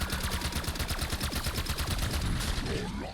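Rapid automatic gunfire from the first weapon in Black Ops 6 Zombies, a fast steady stream of shots that continues for about three seconds, loud and dense, before fading into game effects at the end.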